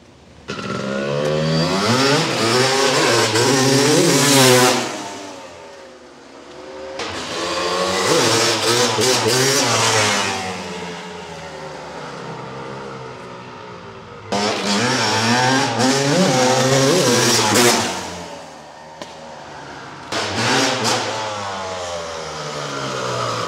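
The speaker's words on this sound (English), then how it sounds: "very rarely does a bike go so fast up the driveway" A 1996 Honda CR250 two-stroke dirt bike revving hard up a driveway, close and loud, with rising, ringing engine pitch across several long pulls separated by brief drops to idle.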